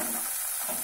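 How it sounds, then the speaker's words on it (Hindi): Tomatoes hit a hot pan for shahi paneer, giving a steady, bright hiss of sizzling oil that holds evenly through a brief moment. "अब डालेंगे टमाटर"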